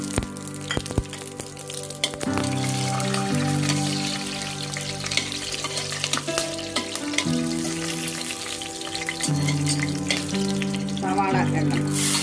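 Whole spices sizzle and crackle in oil and ghee in a pressure cooker, a steady, loud frying hiss that runs throughout under background music.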